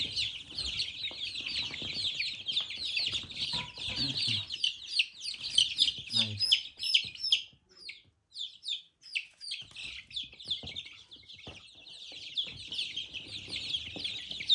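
A crowd of chicks in a coop peeps constantly in high, shrill chirps, with a few clucks and soft thumps mixed in, close up.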